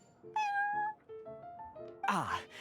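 A cat meows repeatedly in the Genius Invokation TCG card game, several clear tonal meows of varying pitch in a row, ending in a louder, rougher drawn-out cry.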